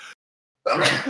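A single loud, close sneeze bursts out after a brief silence, preceded by a short clipped voice.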